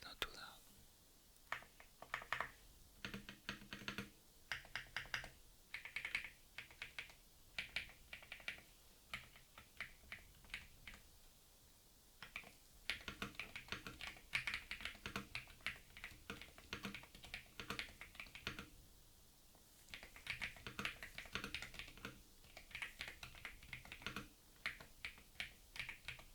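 Rapid, steady clatter of keys being typed on an AK820 Pro gaming keyboard, close up, with brief pauses and soft whispering underneath.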